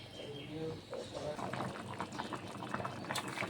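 A chicken, chana dal and potato curry boiling in a pot, a steady low bubbling simmer heard close with faint stirring clatter over it.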